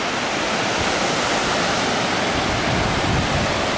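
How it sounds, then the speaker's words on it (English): Crystal Falls in Kinsmen Park, Sault Ste. Marie, where Crystal Creek runs down a narrow sloped spillway, gives a dense, loud, unbroken roar of rushing water heard up close. "Crystal Creek races down here for 40 meters, 160 feet, in a sloped, narrow spillway to finally fall into a still,"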